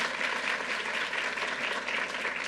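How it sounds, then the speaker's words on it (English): An audience at a gun-violence bill signing by the New York governor applauds, a dense, steady wash of many hands clapping at even loudness throughout. "Let's give a round of applause to Assemblymember Rosenthal."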